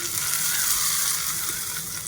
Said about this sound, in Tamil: இப்போ இந்த தாளிச்சதை சட்னியில் கொட்டிடலாம்